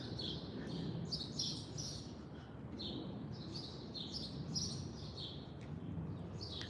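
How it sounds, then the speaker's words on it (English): Small birds chirp and tweet in quick repeated calls over a steady low hum of traffic and city noise on a Washington street, faint and a little distant. "And yeah, you can hear the birds."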